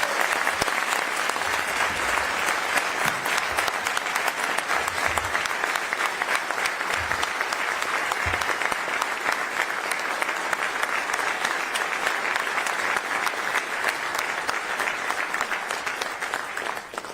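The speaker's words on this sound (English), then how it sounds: "One last round of applause for our new coach, Tony Gibson, please." An audience at a press conference introducing a new head football coach claps in sustained, even applause, a thick crowd of hands that stays loud and steady from start to finish.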